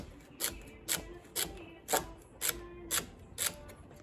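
A knife chops food on a board in steady strokes, about two per second, crisp and close.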